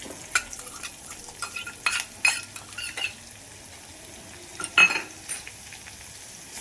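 Garlic paste sizzling in hot oil with asafoetida and curry leaves for a tomato chutney, a steady crackling fry broken by bursts of spoon stirring and scraping against the pan.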